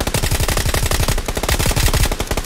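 Rapid bursts of suppressed VSS rifle gunfire in the video game PUBG, dense repeated shots firing close and loud in quick succession with no talk over them.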